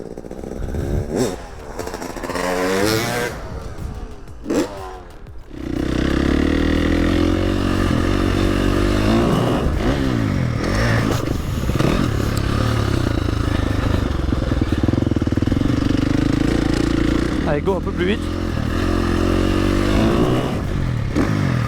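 A 350cc motorcycle engine idles with a clattering burble, then revs up and holds a loud, steady drone; a person speaks briefly near the start.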